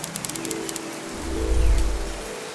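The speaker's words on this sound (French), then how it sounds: "dehors il y a une tempête, on peut pas filmer ni rien du tout, il y a trop d'eau" A rain storm pelts a mountain campsite at 2300 m, a dense patter of drops close by with a swelling gust-like rumble midway.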